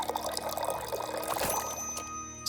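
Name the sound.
pouring liquid to fill a drink in Tavern Talk video game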